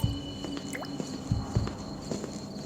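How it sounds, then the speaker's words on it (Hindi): Water drips inside an old fort, a few soft irregular drops and squishy plinks echoing faintly in a quiet, hollow space. "सिर्फ पानी टपकने की आवाज आ रही थी।"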